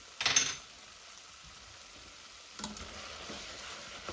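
Onions for French onion soup cook in a pot with a low, soft sizzle, broken by a couple of brief stirring clatters near the start and later.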